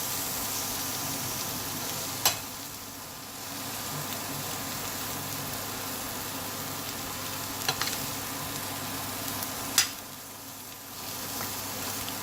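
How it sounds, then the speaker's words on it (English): Green beans and masala spices sizzle steadily in a dry pan, a continuous frying hiss broken by a few sharp scrapes and clicks of a stirring utensil against the pan, with no talking. "then I'm going to stir. Make sure it coats the spices."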